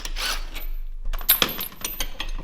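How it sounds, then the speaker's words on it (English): Light metallic clinks and a sharp tick as a metal washer is worked off a bolt on a Shadow motorcycle, close and fairly quiet, a few separate knocks over a brief stretch. "I'm taking one of these washers out"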